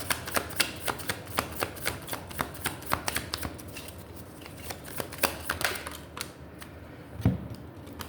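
Tarot cards being shuffled and drawn, a rapid run of crisp, close flicking snaps that thin out into scattered card slaps and rustles, with no talking.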